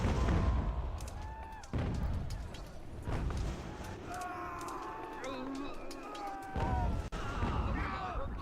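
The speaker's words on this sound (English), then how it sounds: "I marched my boys into my own canister fire" In a snowy Ultimate General: American Revolution battle, friendly canister artillery fire lands on the player's own troops: booming shots and gunfire crackle in repeated bursts, heard beneath someone talking.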